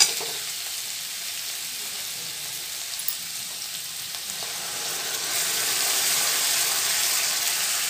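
Ground mustard paste frying in a pan for an Odia village dahi pumpkin dish, with a continuous bright sizzle that grows louder and denser partway through.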